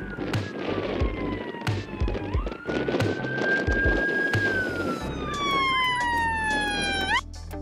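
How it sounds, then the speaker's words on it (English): A police car siren wails up and down in long sweeping tones over a busy street background, then shifts to a fast yelping pattern before cutting off near the end. "A police car is a ground vehicle used by police and law enforcement for transportation during patrols and responses to calls for service."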